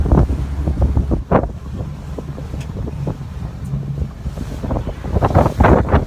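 Strong wind buffets a saltwater fishing boat off Emerald Isle, North Carolina, a loud, steady rushing roar with gusty surges and low rumble, water slapping faintly beneath it, no talk.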